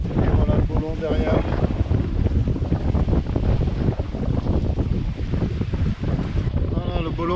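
A sailboat runs under sail at about 7 knots off the Casamance and Gambia coast, with steady, loud wind buffeting the microphone over continuous rushing water and hull noise.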